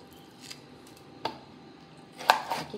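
Knife cutting through a roasted onion for Maharashtrian watan masala, a few sharp crisp cuts spaced apart and then a quick cluster near the end, close and quiet with no talking.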